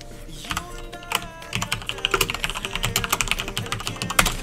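Rapid computer keyboard typing during a Minecraft PvP game, with dense irregular key clacks building into a busy, close-miked stream of strokes.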